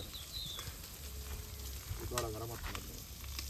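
Boti curry frying in oil at a village cookout makes a steady, close sizzle with stirring scrapes, while voices talk briefly in the background partway through.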